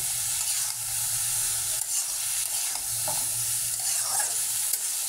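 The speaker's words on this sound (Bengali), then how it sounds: "এখন সবজিগুলো দিয়ে দিচ্ছি। সবজিগুলো দিয়ে আমি কিছুক্ষণ কষিয়ে নেব।" Pointed gourd pieces are sautéed in a pan of cooked-down spiced masala, a steady close sizzle with repeated scraping and stirring strokes of a spatula, no talking.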